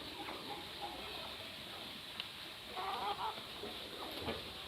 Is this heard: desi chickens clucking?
yes